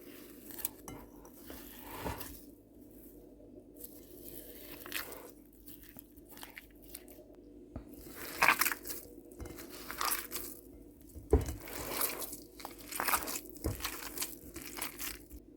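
Wet, squelchy squishing and kneading as waffle dough with margarine and a single egg is mixed by hand, irregular soft crunchy pulses over a steady low hum, close-up, no speech.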